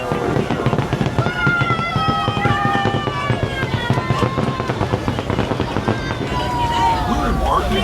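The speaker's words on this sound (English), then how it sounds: "Got some of the fireworks." Fireworks at Disneyland bursting in the distance, heard from aboard the moving Disneyland Railroad train, with crackling pops scattered over a busy wash of crowd murmur and ride noise as people talk nearby.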